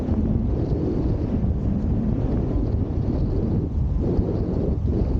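Strong wind gusts buffet the microphone while wing foiling on a bay, a steady, loud broadband roar with rumbling low end and faint water wash underneath, no talking.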